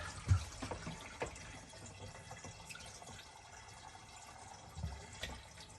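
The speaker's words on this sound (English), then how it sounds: "we can hear it running into the tank" Water runs into the water tank of a box truck, a faint steady trickle with soft splashes and a few louder gurgling bursts, alone without voices.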